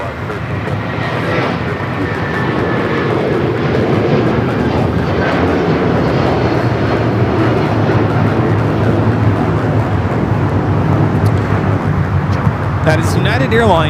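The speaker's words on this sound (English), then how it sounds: "That is United Airlines 2113 taking off to Chicago on the 757-300." A United Airlines Boeing 757-300 taking off from LAX on a Chicago flight, a loud continuous jet roar that swells and holds throughout.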